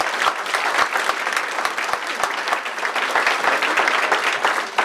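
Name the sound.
audience applause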